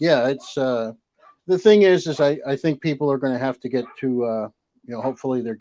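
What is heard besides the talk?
No everyday noise stands out behind the speech.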